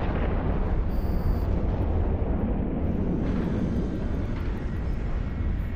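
A stargate opens in the space game Eve Online with a loud, broad roaring whoosh that swells and rumbles like a jet or blast, running continuously and loud throughout.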